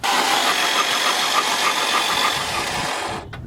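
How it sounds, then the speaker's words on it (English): A car engine that died while driving and has no compression, cranked over by the starter during a compression test with a gauge in the spark plug hole. It gives an even, continuous whirring churn for about three seconds, then cuts off. "And then we're gonna turn the engine over."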